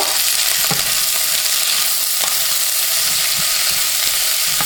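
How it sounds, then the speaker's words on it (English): Peppers, onions and habanero sauté in a hot oiled pan for Jamaican escovitch fish, giving a loud, steady sizzle close by with occasional soft stirring taps. "now you want to go ahead and add the peppers and add your onions with your habanero"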